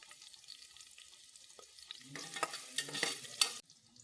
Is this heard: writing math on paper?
no